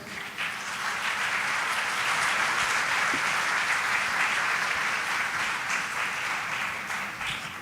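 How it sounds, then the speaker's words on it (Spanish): A university engineering alumni forum audience applauds for several seconds in a dense, sustained wash of clapping that swells and then tapers off slightly at the end, with no speech over it. "Por favor, pido un voto de aplauso."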